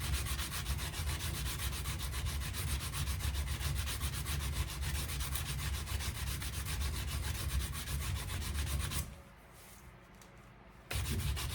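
Sandpaper rubs back and forth over a heat-treated, quenched horseshoe knife to take out scratches, a close, steady rasping that stops for about two seconds near the end and then starts again.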